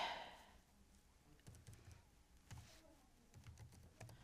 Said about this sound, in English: So I'm just typing it in to make them happy.